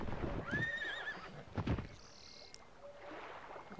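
Horse in the Pippa Funnell Ranch Rescue video game gives a clear, rising whinny followed by softer snorts and game effects over a quiet ambient background.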